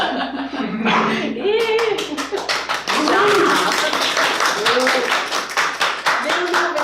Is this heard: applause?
yes